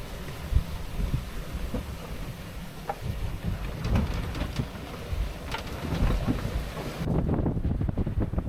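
A strong gust blows across a sailboat at sea during a solo Atlantic crossing, roaring as steady, loud, rough wind buffeting the microphone with a wash of water beneath, and no voices.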